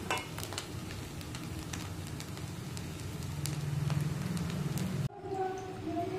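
Chicken fried rice being stirred in a hot pan, with continuous sizzling and frying and repeated scraping and clinking of a spatula against the metal, close and steady, stopping abruptly near the end.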